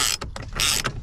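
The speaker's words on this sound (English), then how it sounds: "I'm right now tightening the bolt." Ratchet tightening the bolt on an aftermarket carbon fiber steering wheel inside a car, loud close rasping clicks in quick uneven strokes.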